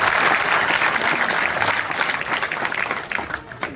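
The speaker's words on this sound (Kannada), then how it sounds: "ಜೋರಾದ ಚಪ್ಪಾಳೆಯನ್ನು ಸ್ವಾಗತಿಸಬೇಕಂತ ಕೇಳಿಕೊಂಡಿದ್ದೀನಿ" Loud, dense applause from an audience at a village welcome ceremony for a retired army havaldar, a continuous close roar of many clapping hands that eases slightly near the end.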